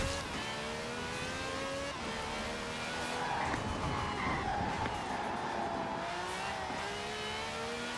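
An engine in a small, quirky car in Forza Horizon 4 revs and accelerates, pitch rising through the gears with brief drops at each shift, loud and continuous, with faint tire noise underneath.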